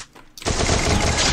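Rapid automatic gunfire from the mobile battle royale game Free Fire played on an emulator, a loud sustained burst that starts abruptly after a brief quiet moment.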